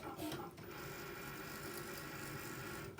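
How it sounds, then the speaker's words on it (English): An electronic craft cutting machine cutting out a snowman-shaped tag, giving a steady, faint mechanical whir and buzz of its motor and blade carriage, continuous and alone. "it's going to then go ahead and cut out the outside of the snowman"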